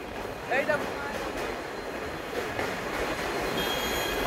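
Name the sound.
train passing over a bridge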